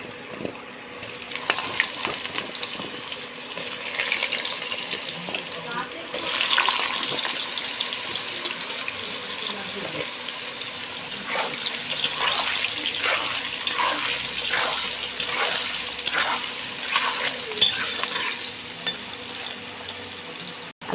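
Cut potatoes fry in a pan with a continuous soft sizzle, broken by repeated scraping and stirring strokes that grow more rhythmic in the second half.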